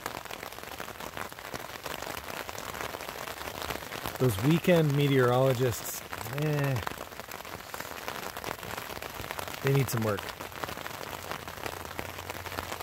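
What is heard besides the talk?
rain falling on a tent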